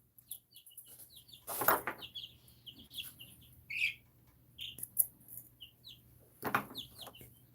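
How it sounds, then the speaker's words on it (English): Small birds chirping and squawking in short, scattered bursts close by, with sharper peeps and calls over a quiet indoor background hum. "I hear you, baby birds."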